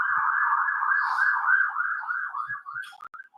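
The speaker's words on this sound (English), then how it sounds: "There's our sirens." An emergency vehicle siren wails steadily at close range, holding a loud sustained tone for about two and a half seconds before breaking into shorter bursts and fading, with no talking.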